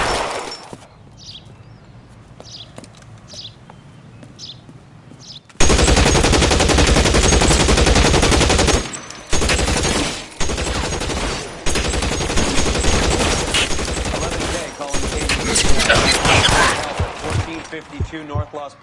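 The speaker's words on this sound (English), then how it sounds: "Shots fired and officers need help at 1452 North Las Palmas." A police shootout in a 1940s Los Angeles crime game, with sustained loud bursts of gunfire and breaking impacts after a quieter opening with scattered shots, and a voice talking through parts of it.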